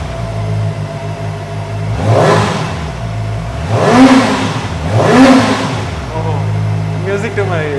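A Kove 450 motorcycle engine idles in a showroom, then blips sharply through three loud revs around the middle before settling back to a steady, close idle.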